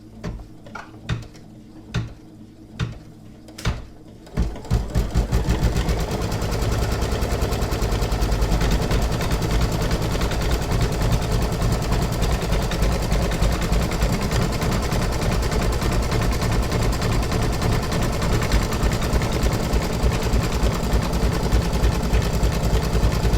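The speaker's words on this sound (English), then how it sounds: "So I'm going to stitch step 6, which is like the zigzag stitch now" Embroidery machine stitching a zigzag underlay on an in-the-hoop coaster: a few separate clunks at first, then a fast, loud, continuous mechanical rattle of rapid needle strokes that holds steady.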